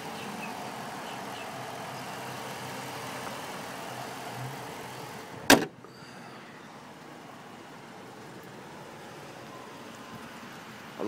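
A 2005 Jeep Grand Cherokee with a 5.7 liter Hemi V8 idles with a steady low rumble, and a single sharp clunk breaks in about halfway through.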